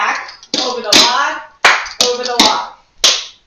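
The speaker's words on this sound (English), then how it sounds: "Sometimes it's just done individually, and oftentimes followed by a clap" Sharp hand claps and foot taps from over-the-log clogging steps, a handful of crisp percussive hits spaced unevenly over a few seconds, close and clear.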